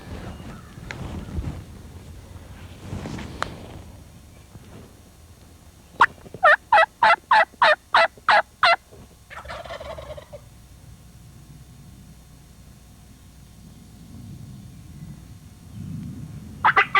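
Wild turkeys gobble near a cornfield in spring, a quick series of about seven loud, rattling gobbles close by, followed by a softer bird call, with quiet field ambience before and after.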